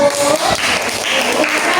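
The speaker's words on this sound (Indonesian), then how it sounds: "Tepuk tangan untuk kelompok 1." An audience claps for the first group at a classroom presentation, a brief, dense burst of applause that fills the room with a steady wash of hands and no clear individual claps.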